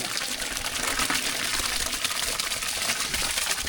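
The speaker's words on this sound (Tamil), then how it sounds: "சாம்பார் சாதம் ரெடி பண்ணுறதுக்கு தண்ணி நல்லா கொச்சிட்டு இருக்கு அரிசி சேர்த்துக்கலாம்" Rice poured into a pot of rapidly boiling water while making sambar rice at home, a dense continuous rushing, bubbling hiss close by and fairly loud, with no talk over it.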